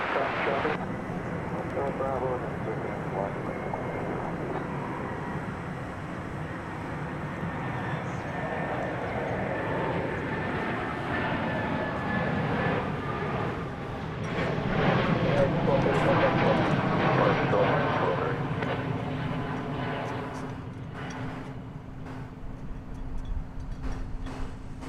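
An airplane taking off from runway 18 Left at DFW Airport, a long rumbling engine roar that builds to a peak and then fades as it departs, with radio voices talking over it.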